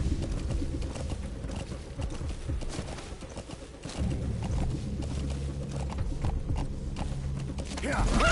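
Horse hooves clip-clop in the video game Metal Gear Solid 5, a steady trotting rhythm mixed into dense game ambience, with voices and other sounds running throughout.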